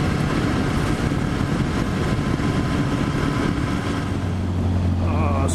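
A Kawasaki Ninja 400 motorcycle engine lugs low in sixth gear, a steady rumbling drone under heavy wind rush at the microphone, with the engine note settling into a deeper steady hum near the end.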